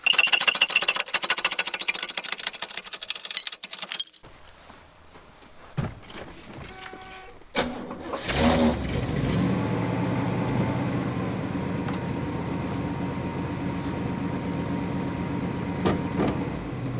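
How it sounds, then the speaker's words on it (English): A 1969 Oldsmobile Ninety Eight two-door convertible engine cranks briefly after a quiet stretch, then catches and settles into a steady, fairly loud rumbling run for the remaining several seconds. "let's put the wheel back on and start up the car."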